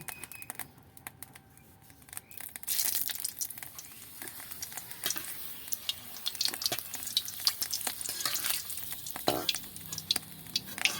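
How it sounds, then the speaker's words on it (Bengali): Papad frying in oil in a kadai for a Bengali fig and papad dish, with a crackling sizzle that swells after a quiet start and keeps popping and spitting close by, with no talking. "কড়াইতে তেল দিয়েছি এখানে আমি কিছু পাঁপড় নিয়েছি এই পাঁপড়গুলো ভেজে নেব"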